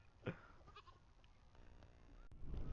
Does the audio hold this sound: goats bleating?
yes